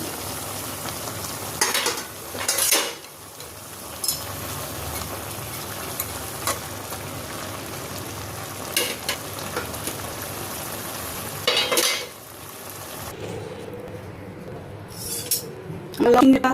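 Sautéed shrimp hits a pan with bottle gourd greens and sizzles steadily, with intermittent metallic clinks and scrapes from stirring, close and moderately quiet.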